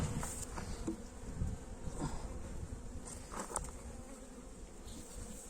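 Honeybees buzzing inside a hive in January winter conditions, a steady close droning hum with faint soft rustling and tapping as frames are handled, no voices.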